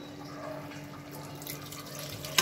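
Water runs steadily into a cooking pot for rice, four glasses over two glasses of rice, a soft continuous trickle and splash close by, with a brief louder clink at the very end.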